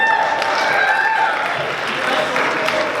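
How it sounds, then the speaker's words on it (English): Applause and cheering from a crowd at a high school pageant, a loud steady wash of clapping mixed with voices and a few whoops throughout. "Round of applause"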